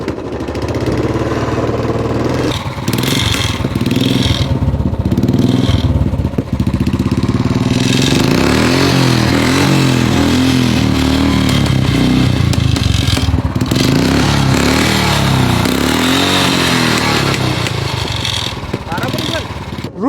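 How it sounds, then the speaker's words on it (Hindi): A Bullet motorcycle engine starts and revs, its loud thumping exhaust rising and falling in repeated throttle blips, with a person talking over it close by. "बाइक स्टार्ट कर रहा हूं मैं"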